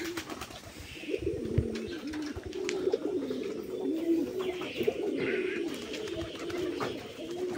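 Pigeons on a pigeon farm coo steadily in low, rolling calls that overlap throughout, with scattered wing flutters and small chirps, no talking.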